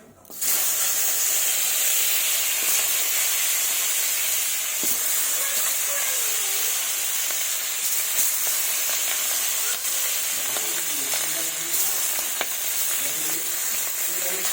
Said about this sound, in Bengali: বাকি মাছগুলো ভেজে নেব এক এক করে